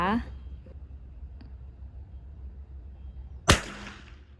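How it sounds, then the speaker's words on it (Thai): A single sharp rifle shot rings out near the end while zeroing a Discovery HS 4-14x44 SF FFP scope, preceded by a quiet stretch with a brief voice at the start. "เริ่มยิงตั้งกล้องนะคะ"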